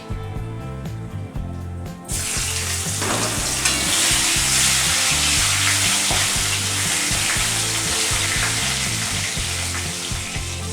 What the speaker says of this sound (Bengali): এর মধ্যে আরেকটু সর্ষের তেল দিয়ে আমি এর মধ্যে জিরে ও তেজপাতা ফোড়ন দেব।